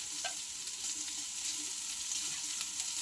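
Onions sizzle in a hot pan for sinampalukang manok, a steady close frying hiss with faint stirring scrapes underneath and no voices.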